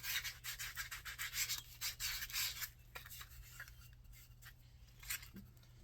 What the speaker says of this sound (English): we're just smoothing up the handle a little bit